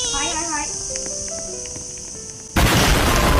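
A loud, broadband explosion in the Roblox game Dead Rails bursts in suddenly and roars on, following a stretch of game music with tonal beeps and melodic tones.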